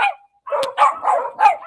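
Dogs bark at night, several loud, close barks in quick succession after a brief pause, rough and repeated with no talk over them.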